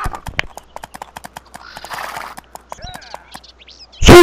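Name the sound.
horse hooves clip-clopping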